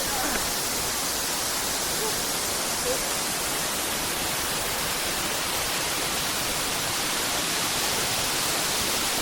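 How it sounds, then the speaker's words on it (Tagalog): Balagbag waterfall in Real, Quezon, in the Sierra Madre, roars as a constant, dense rush of falling water that fills the whole stretch without a break. "Dito makikita natin yung mas malaki, mas mataas na waterfalls."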